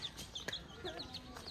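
Chicks cheep in quick, high, close peeps with a few soft clucks from the flock, in a short busy burst with no clear speech.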